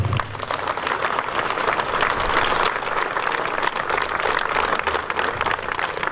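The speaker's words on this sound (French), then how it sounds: "je voudrais que vous les applaudissiez encore, tous les quatre" Applause from an audience at an exhibition inauguration and mural unveiling, honouring four artists: steady dense clapping that holds loud and even throughout, with no voices over it.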